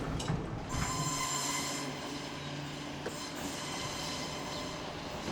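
A train on the Johnsonville line rolls past a big curve near Crofton Downs, a steady rumble with metallic wheel tones and a faint squeal running through the whole stretch at moderate distance.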